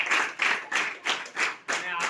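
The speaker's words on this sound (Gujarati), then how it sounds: "એમના માટે બી જોરદાર તાળીઓથી સ્વાગત કરશો." An audience at a gathering claps in applause, about six loud, rhythmic bursts of hand-clapping close by, with short gaps between the waves.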